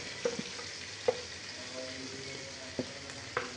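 Spiced rohu fish roe frying in a pan with cumin, garlic and ginger paste, a steady soft sizzle with a few light stirring clicks and scrapes, fairly quiet and close.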